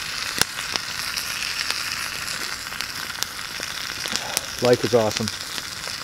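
Bologna frying in a fry pan over a campfire in a snowbank, a faint steady sizzle with light crackles and pops, and someone briefly speaking near the end.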